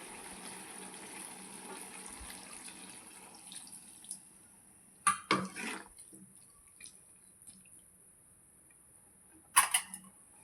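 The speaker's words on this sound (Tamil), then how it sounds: "ஒரு கிளாஸ் தண்ணி ஊற்றிக்கலாம்" A glass of water is poured into a pot of bottle gourd cooking for prawn gravy, two short close splashing pours separated by a quiet stretch, with no talking.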